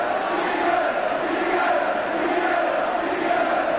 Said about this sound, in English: the chant from the crowd, if you can follow the Geordie accents, appears to be Bobby Robson